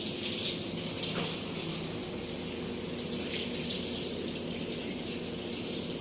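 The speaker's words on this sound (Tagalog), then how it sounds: "Magpapatubig na kami ng jacuzzi." Hot water filling a jacuzzi tub: a steady, moderately loud rushing gush of water pouring from the tap, continuous and even throughout with no talking.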